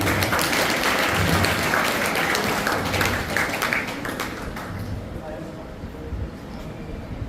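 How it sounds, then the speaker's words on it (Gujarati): An audience at a school result ceremony applauds loudly with dense, sustained clapping that slowly fades out over several seconds, while voices murmur underneath. "તાળીઓના ગડગડાટથી વધાવશું."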